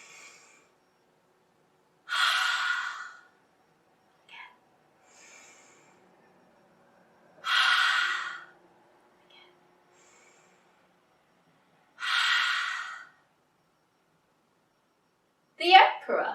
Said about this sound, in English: you'll look up and breathe out the fire. Just like a dragon